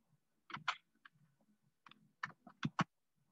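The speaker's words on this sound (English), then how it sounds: "Let's go ahead and type our first name and last name, and our username" Scattered light clicks of a computer keyboard as a first name, last name and username are typed, in short irregular bursts with pauses between them, close and quiet with no speech.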